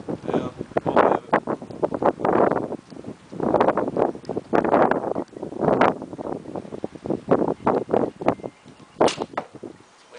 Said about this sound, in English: This wind is a bitch.